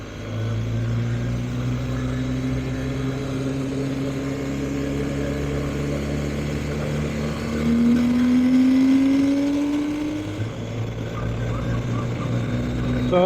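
A BMW R1250GS motorcycle riding on a road, heard from the rider's helmet: steady engine drone with rising pitch through the gears, a brief surge around the middle, and constant wind rush throughout.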